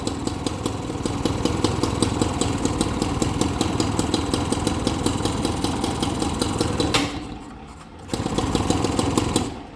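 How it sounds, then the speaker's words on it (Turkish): An old moped engine with points ignition idles steadily with a rapid, even exhaust putter, close by, dipping quieter briefly near the end before picking back up. "Sadece egzoz var."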